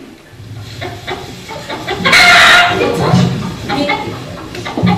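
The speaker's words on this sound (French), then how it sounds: "C'est des poules, ma parole, on a trouvé du poulailler." Chickens cluck in a henhouse on a theatre stage, with a sharp burst of agitated squawking midway and voices talking throughout.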